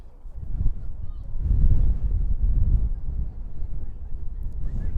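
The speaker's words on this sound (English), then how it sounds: "And the gusts here have gotten stronger in Staten Island." Strong wind gusts buffet an outdoor microphone at a youth soccer field on Staten Island, a continuous low rumble that swells into heavier gusts and stays loud throughout.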